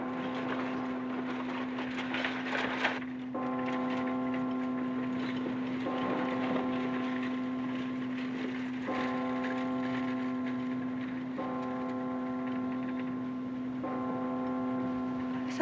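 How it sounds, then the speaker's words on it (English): Church bells ring in repeated tolling strokes over a steady humming drone, the peals recurring every few seconds at a moderate distance. "Something peaceful about a church bell, isn't there"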